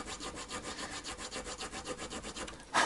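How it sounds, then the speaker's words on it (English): Saw cutting a slot in a Telecaster guitar part, a quick series of rhythmic back-and-forth rasping strokes close by, ending on a brief louder scrape, with no talk. "first of all, cutting a slot to take the overall height down"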